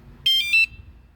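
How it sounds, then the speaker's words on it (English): A moped's security alarm sounds a short, loud electronic warble of a few rapid chirps, close by and alone against a quiet background. "Alright, so set the alarm off."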